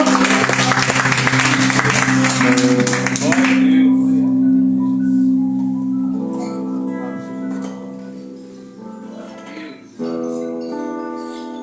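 Loud applause from a church congregation at a prayer service fills the first few seconds, then fades into sustained, harmonic musical tones that continue at moderate volume.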